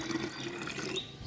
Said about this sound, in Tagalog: Yan mga ka-agri, lagyan natin ng tubig.